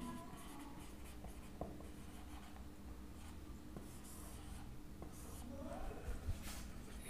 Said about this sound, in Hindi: इधर लिख लेते हैं हम कंपैक्शन